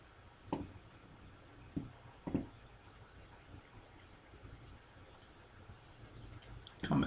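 Computer mouse clicks sound sparsely and close by, a few isolated sharp ticks spaced seconds apart over a quiet room tone, ending in a quick double click.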